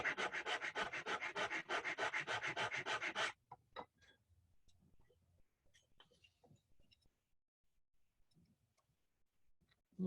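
Sandpaper rubs wood in quick, even, rhythmic strokes for about three seconds during hand joinery of a mortise and tenon, then stops, leaving faint scattered clicks and handling noises.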